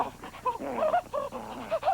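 Dog whimpering in a Bud Light beer commercial: a series of high, wavering whines and yips over about two seconds, close and fairly loud, with a background hum.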